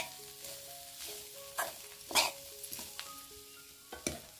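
Wild pevla leafy greens cooking in a pan, stirred with a few scraping, rustling strokes over a soft sizzle, with brief louder clatters, close and moderately quiet.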